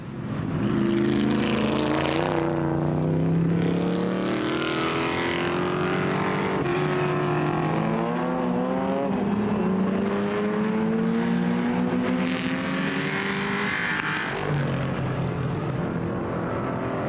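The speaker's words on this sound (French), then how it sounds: "une autre bagarre a eu lieu entre la petite Lotus Elan et la Jaguar Type E de Frédéric Puren" Loud classic racing car engines, including a Lotus Elan and a Jaguar E-Type, roar and rev continuously during the Tour Auto rally, pitch rising and falling through gear changes as the cars speed past.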